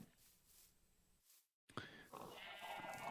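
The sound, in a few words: sheep bleating in a Minecraft-style video game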